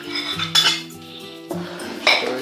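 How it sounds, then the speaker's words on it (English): Cornmeal porridge with nutmeg stirred in a pot, with a metal spoon knocking and scraping against the sides in a few distinct close clinks and rings. "Stirring it."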